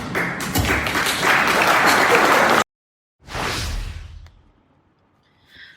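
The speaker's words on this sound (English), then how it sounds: "So it was nice to get a small round of applause there" A small round of applause from an audience at an event, steady and fairly loud for a couple of seconds, then cutting off abruptly, followed by a shorter swell that fades away.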